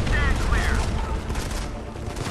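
Gunfire in the mobile shooter Modern Combat 5: Blackout on Android: a loud, dense fusillade of shots and booms that rolls on continuously, with a voice briefly audible under the battle noise.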